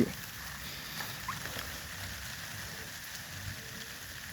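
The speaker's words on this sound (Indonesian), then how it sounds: "Nah ini hujan nih, turun hujan." Rain falls on an oil palm plantation in the December wet season, a soft steady hiss of drops spread evenly across the whole stretch, faint and distant, with no voices.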